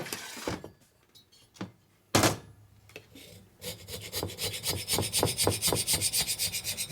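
A carbide scraper works gasket material off metal on Harley twin cam heads, giving scattered rasping strokes and a sharp scrape before settling into a rapid, even back-and-forth scraping rhythm, close and fairly loud, with no voices.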